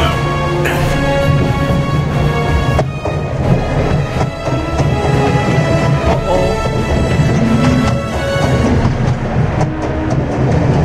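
A train rumbles along continuously in the game The Raven, a loud, dense rolling clatter of wheels and carriages that fills the whole stretch without pause.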